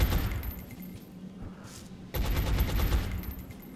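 Suppressing fire in the video game XCOM Long War: loud, rapid bursts of automatic gunfire, a short lull and then another sustained burst, with no speech over it.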